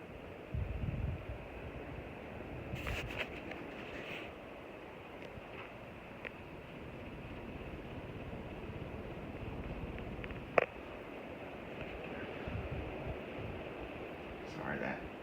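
A 52-inch Concord ceiling fan running on high gives a steady broad whooshing hiss of moving air, with occasional faint clicks and rattles and a sharp tick midway, fairly quiet throughout.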